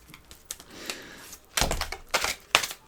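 Tarot cards gathered and tapped back into a deck, a handful of short papery slaps and clacks, close by, coming in uneven bursts with brief pauses between them.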